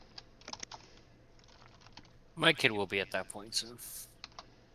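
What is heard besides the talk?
typing on a computer keyboard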